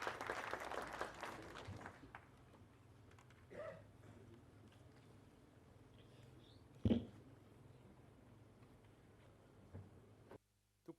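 Audience applause at an East Africa indigenous peoples' land summit, greeting an elder speaker: a broad, moderately loud burst of clapping over the first two seconds that fades into quiet room noise, followed by a few isolated knocks.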